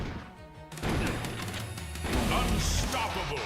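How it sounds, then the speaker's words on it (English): Explosions in a fast arena shooter, a sharp crash followed by dense rumbling bursts that swell and linger, fairly muffled amid game noise. "So underwhelming explosions."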